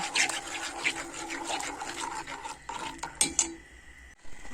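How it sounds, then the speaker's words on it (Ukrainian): Milk is poured into pumpkin cake batter and stirred, giving soft liquid pouring and light scraping stir sounds, fairly quiet and close, fading near the end. "це легенько так заливаємо у молоко і гарно розмішуємо"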